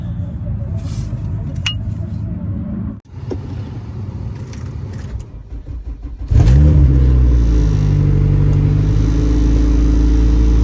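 An AWD car with a faulty hub slider drives in second gear, its engine droning under cabin rattles, then a louder, deeper engine roar takes over partway through and holds steady.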